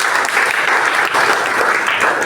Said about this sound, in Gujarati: તમારા પોતાના માટે તાળી પાડો